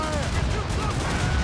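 Ship cannons fire in the video game Assassin's Creed Rogue, a dense run of booming blasts and crackling shots amid battle noise, with shouted voices over it.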